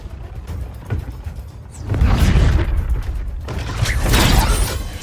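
A superhero's arm cannon fires in Injustice 2, with metallic mechanical clanks and creaks building into heavy booming blasts, loud and close, with no speech.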